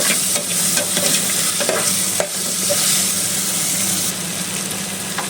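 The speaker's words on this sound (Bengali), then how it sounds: "আলুগুলোকে হালকা করে একটু ভেজে নেবো।" Steady, loud sizzling of potatoes frying in a pan, with occasional stirring scrapes over a constant hiss.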